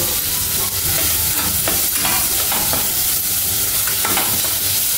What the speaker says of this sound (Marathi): शिजेपर्यंत आपल्याला त्याच्यामध्ये चांगलं परतून घ्यायचं आहे